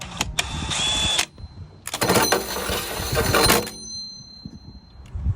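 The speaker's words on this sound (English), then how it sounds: "we're gonna drill in our hole for the power connection right here" A power drill whines in two loud bursts, a short one then a longer one, drilling a hole in a Jeep Wrangler JKU for a charger power connection, with quieter handling noise and clatter in between and after.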